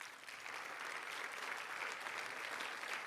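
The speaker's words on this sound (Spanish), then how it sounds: "Dile un aplauso al Señor." A church congregation claps steadily through a Spanish-language sermon, a dense, even wash of applause from a full room that sustains for the whole stretch at a moderate, somewhat distant level with no voices over it.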